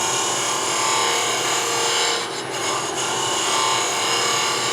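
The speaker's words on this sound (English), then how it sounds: "A little shear scraping will do it." A wooden coffee scoop having bumps taken off by shear scraping, producing a steady, close rasping scrape that continues almost unbroken and dips briefly partway through, with no talking.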